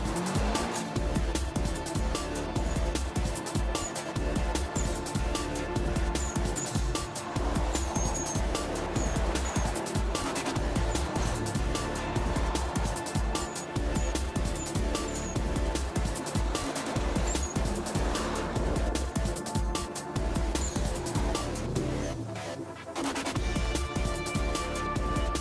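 A Subaru Impreza WRX STI runs hot laps, its engine and tires giving a continuous rough roar heard from a distance with fluctuating intensity and occasional squeal, all fairly faint.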